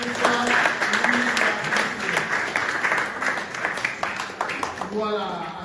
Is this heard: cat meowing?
no